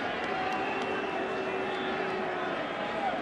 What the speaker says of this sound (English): This crowd, which has been thinned out,